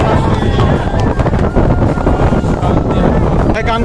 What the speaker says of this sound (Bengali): কি শান্তি লাগতেছে, আহারে অস্থির বাতাস